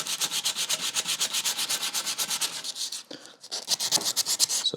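Close, steady back-and-forth rubbing of sandpaper on guitar wood by hand, fast even strokes that pause briefly before resuming.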